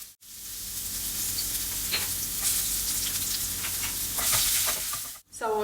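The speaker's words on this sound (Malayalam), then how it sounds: "ഇനി ഇതിനകത്തോട്ട് എണ്ണ ചൂടായി കഴിയുമ്പം നമുക്ക് അരിഞ്ഞു വെച്ചിരിക്കുന്ന സവോളയും വെളുത്തുള്ളിയും ചേർത്ത് കൊടുക്കാം" Chopped onion and garlic fry in hot sunflower oil in a pan, a steady broadband sizzle with occasional stirring scrapes, close and loud throughout, stopping briefly near the start and end.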